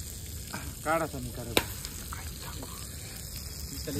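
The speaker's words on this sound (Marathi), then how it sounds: "हा लॉलीपॉप आहे तो आता निखाऱ्यावरती ठेवते इथं." Chicken lollipop cooking over hot charcoal embers gives a steady low crackling sizzle, with a brief rippling stir near the start and a sharp tick partway through.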